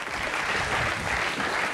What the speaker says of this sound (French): On meuble avec quelques petits applaudissements.